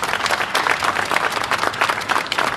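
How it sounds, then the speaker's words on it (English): Applause from an outdoor crowd at a Jordanian flag raising ceremony in Yonkers, a steady dense clapping that carries on at full strength for the whole stretch with no talk over it. "let's give him a nice round of applause"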